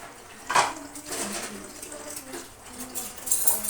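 Plates being washed under a running tap, with a steady splash of water and a few clinks of dishes, close and continuous.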